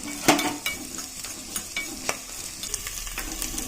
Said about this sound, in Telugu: ఇంకో స్టవ్ మీద కొన్ని ధనియాలు వేయించుకుందాం అందులో ఒక మూడు లవంగాలు ఒక యాలక్కాయ వేసి ఫ్రై చేసుకుందాం